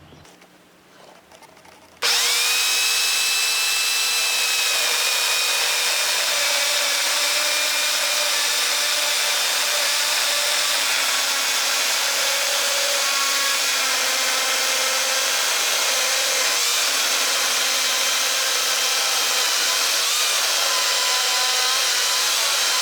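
An electric chainsaw milling wood with the blade buried in the cut, starting after a brief quiet moment and then running as a loud, steady, high whining roar that holds unbroken for over twenty seconds.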